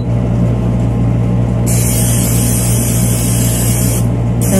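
A loud hissing aerosol cooking spray bursts on for a few seconds, then cuts off, followed by a short second spritz, over a steady low machine hum.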